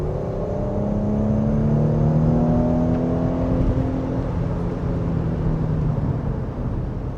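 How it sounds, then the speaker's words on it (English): A Porsche Macan Turbo with a 3-litre turbocharged engine drones steadily through an open sunroof, a smooth, sustained exhaust hum with rising and falling tones and no talking. "just to let a bit of the sound of the exhaust in"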